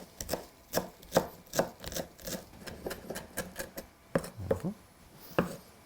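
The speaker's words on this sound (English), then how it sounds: "I'm gonna chop thinly the parsley" A knife chops parsley in quick, light strokes on a cutting board, a steady run of sharp close taps with short pauses.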